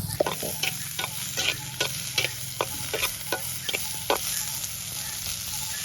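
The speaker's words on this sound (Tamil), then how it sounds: "சின்ன வெங்காயத்தை போட்டு வடிவா விரட்டி விடுவோம்" Shallots and fennel seeds stir-fry in a pan for sambal. A soft continuous sizzle runs underneath while a spatula clacks and scrapes in a quick, irregular rhythm. The sound is near, with no voices.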